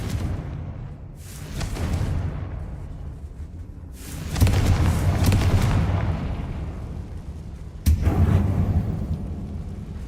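Confringo blasting spell in Hogwarts Legacy bursting in a closed mine: deep booming explosions, one swelling near four seconds and a sharp blast near eight, each followed by a rumbling low tail, no voices.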